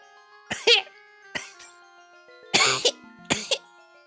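A person coughs close to the microphone in four sharp bursts, some with a double hack, separated by short pauses, over faint, quiet tonal game music.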